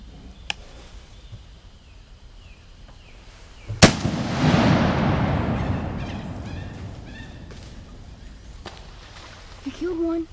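A single loud gunshot cracks out on an outdoor duck hunt in Northwest Florida and rolls away in a long fading echo across open ground, with faint bird calls and quiet background sounds before and after.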